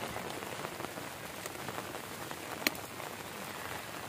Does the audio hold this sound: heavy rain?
yes